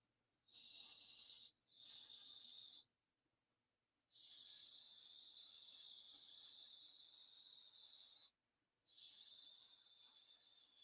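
An air compressor runs on a workbench, giving a bright, steady hiss of air that cuts in and out in several long bursts with short silent gaps between, with no voices.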